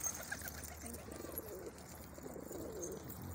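Pigeons cooing at a loft: soft, low, rolling coos, faint and a little distant, over quiet background hiss.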